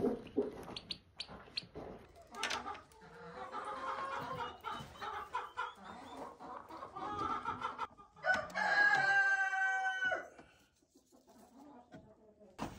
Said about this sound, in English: This is our light Sussex flock.